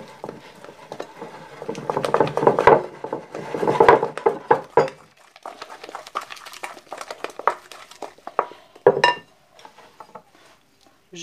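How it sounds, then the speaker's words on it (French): Flour being stirred into muffin batter for tomato muffins, a spoon working the mix in a bowl with repeated scraping, knocking and rubbing strokes, irregular and close, louder in the first half and sparser toward the end. "On remue toujours au milieu et on ramène sa farine petit à petit vers le milieu."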